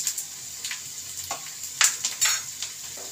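A spoon stirs spiced vegetable dal, seasoned with turmeric and salt, in a cooking pot, giving a few soft scrapes and clinks over a gentle sizzle, close and fairly quiet.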